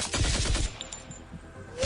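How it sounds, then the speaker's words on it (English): Rapid autocannon fire in the Starfinder video game, a dense, loud burst of overlapping shots that fills the brief moment and then tails off. "Clara fires her autocannon at the Void Stalker."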